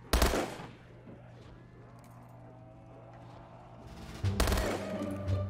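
Bursts of gunfire in Black Ops 3 Zombies: a loud volley at the start, a quieter stretch with faint game ambience, then another heavy burst near the end.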